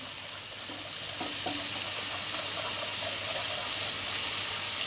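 Chicken legs sizzle in a pan with broth for a chicken-and-spinach dish, a steady, close, dense frying hiss with occasional stirring scrapes, and no talking.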